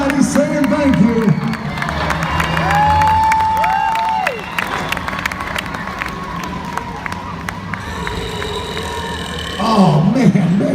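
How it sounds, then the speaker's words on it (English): An arena crowd at a Monster Jam event applauds and cheers for the Megasaurus monster truck, a broad sustained roar beneath an announcer's amplified voice. "Give him a big round of applause as he comes to your side"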